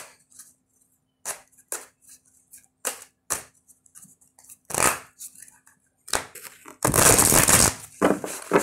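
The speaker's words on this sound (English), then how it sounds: "I need you to tell me when to stop shuffling." Tarot cards are shuffled by hand in a series of short, crisp riffles and slaps, ending in a longer, louder burst of shuffling, close and with no talk.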